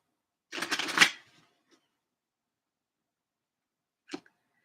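A deck of Osho Zen Tarot cards is shuffled in one quick riffling burst about half a second long, close and crisp, then quiet, with one brief card flick later.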